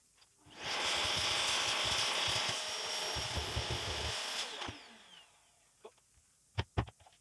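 A drill bores a cable hole through a wooden model railway baseboard, a steady loud whirring grind lasting several seconds before winding down, followed by a few sharp knocks.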